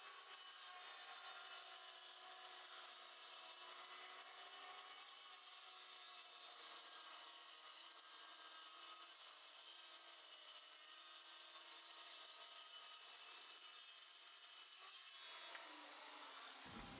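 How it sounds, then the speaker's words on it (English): A circular saw run along a straight edge trims a heavy solid maple benchtop, giving a steady, continuous high-pitched cutting whine that holds for about fifteen seconds before spinning down to a stop. "instead I'll set up a straight edge and I'll trim it with a circular saw."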